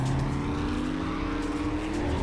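A car engine in the 7 Days to Die video game drones steadily and loudly while the vehicle pushes against three zombies blocking its way, with no pauses or breaks.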